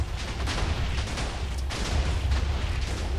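Chains of TNT blocks detonate in Minecraft, producing a dense, continuous rumble of overlapping blasts that roll on loudly without a break.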